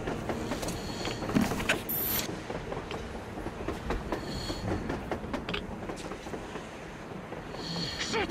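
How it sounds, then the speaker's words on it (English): Train rolling past in the video game Metro Exodus, with rhythmic clattering wheels, metallic clanks and squeals over a continuous rumbling mechanical din, close and loud throughout. "A damn train on the surface!"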